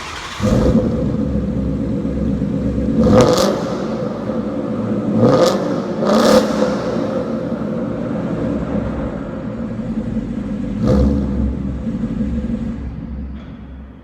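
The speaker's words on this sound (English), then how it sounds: "I'm going to fire it up and give it some revs." A 2016 Ford Mustang GT starts up inside an echoing garage and is revved loudly several times, with sharp throttle blips rising over a steady rumbling idle.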